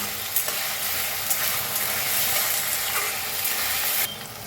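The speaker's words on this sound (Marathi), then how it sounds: "टमाटो काही हलवून घेऊया. ह्याच्यात टाकायचं मीठ, म्हणजे टमाटो आपलं लवकर भाजतंय. मिक्स करून भाजून घेऊया." Tomatoes with salt frying in a pan, a loud dense sizzle running nearly throughout with occasional stirring scrapes, close up, ending with a slight drop in level, no voices.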